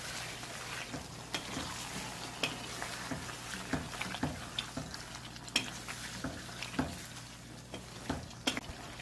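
Chicken and chunks of bottle gourd are stirred in a pan, with an even sizzle under repeated spoon scrapes and knocks against the metal, close and moderately quiet.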